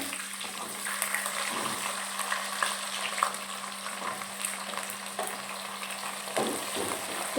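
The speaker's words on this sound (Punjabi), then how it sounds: "ਤੇਲ ਗਰਮ ਹੋ ਗਿਆ ਹੁਣ ਮੈਂ ਪਾ ਦਿੰਨੀ ਆ ਇਹਦੇ ਵਿੱਚ ਡੇਢ ਕ ਚਮਚਾ ਜੀਰੇ ਦਾ ਅਜਾ ਭੁੰਨ ਲੈਣੇ ਪਹਿਲਾਂ" Cumin seeds roast in hot oil in a home kitchen pan, giving a steady, close sizzle and crackle that runs unbroken throughout with small pops on top and no talking.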